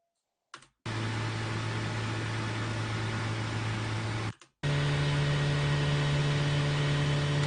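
Two car engine sound loops play in succession after a short tick, each a steady sustained drone with a pronounced low exhaust hum, the second pitched slightly higher, separated by a brief gap, with no voices.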